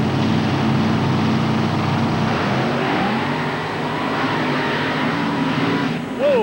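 Trucks racing side by side in a 1996 NMRO mud race at Lima, Ohio, with a loud, continuous roar of high-revving engines filling the whole stretch.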